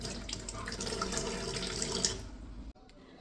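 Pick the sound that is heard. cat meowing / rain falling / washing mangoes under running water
washing mangoes under running water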